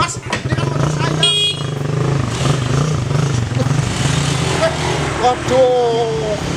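A motorcycle rumbles and idles close by on a street, with a horn honking briefly and people talking over the engine.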